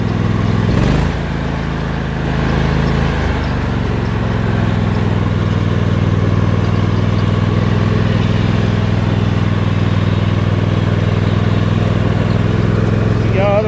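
A garden tractor engine runs steadily in top gear without being revved hard, a loud, even mid-pitched drone that holds throughout, close by, with a voice briefly over it.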